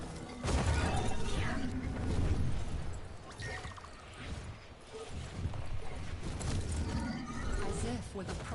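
Horse hooves clip-clop in the video game Warframe's Duviri over a busy, noisy game soundscape, with occasional whinnies and mechanical clatter mixed in.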